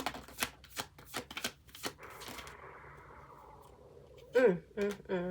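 A deck of cards is shuffled close by, with a quick series of crisp riffle snaps followed by a softer, sustained whirring cascade as the cards fall together, then a voice speaks briefly.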